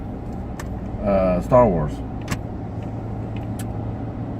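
The interior of a moving car gives a steady low road rumble and engine hum. Someone speaks briefly over it, and a few faint clicks come through.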